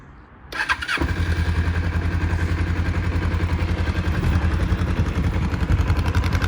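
A 1993 Kawasaki EL 250 Eliminator cruiser motorcycle starts from cold with a little choke, then settles into a steady, close, loud idle with an even rumbling beat.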